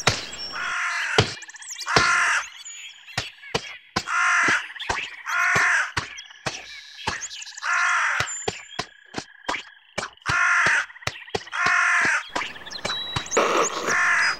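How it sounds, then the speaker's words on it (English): Cartoon crows caw in loud, repeated bursts, with sharp knocking thwacks between the calls, all close and clear with no talking. "There's some birds flying by."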